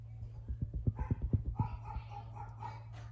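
Dogs give a quick run of short, close yips and barks, then settle into softer whimpering tones over a low steady hum.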